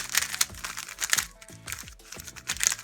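A new speed cube being turned for the first time, giving quick, dry, clacky plastic clicks and crunches in irregular bursts, close up and fairly quiet, with no talking.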